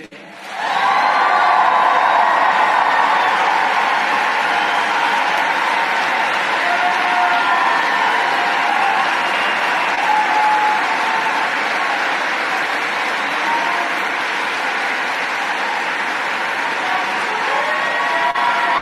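Large event crowd erupts into loud, continuous applause and cheering with whoops, a roaring wall of sound holding steady for nearly twenty seconds.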